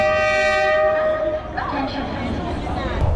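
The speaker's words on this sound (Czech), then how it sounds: "Nočním vlakem opouštím Hue." A night train's horn blasts loudly and steadily for about a second, then cuts off, leaving the rumble of rail cars rolling along with faint voices in the background, departing Hue in Vietnam.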